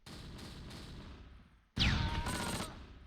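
Gunfire in the Close Combat WWII strategy video game, sustained rumbling bursts of shooting, then a sharper, louder volley with a whining streak over continuous battle noise.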